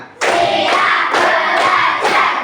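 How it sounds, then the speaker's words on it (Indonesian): A primary school class does a rhythmic concentration clap, with loud bursts of many hands striking together in a regular beat of about four claps, close and energetic. "kita tepuk konsentrasi dulu ya"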